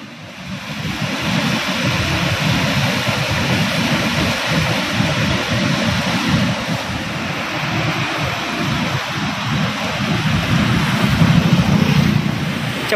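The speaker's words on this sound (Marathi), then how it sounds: "या ठिकाणी असणारा हा पाण्याचा प्रवाह" Swollen river in flood near Morgaon, its water rushing past as a steady, loud broadband roar with no break, heard close by for the whole stretch without any voices.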